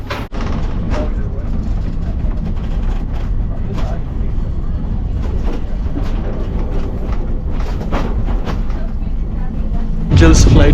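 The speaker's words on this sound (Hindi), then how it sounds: "It's quite a popular train here." The Angels Flight funicular tram in Los Angeles rumbles and rattles steadily along its short incline, with clunks and knocks throughout and a louder jolt near the end, and voices mixed in.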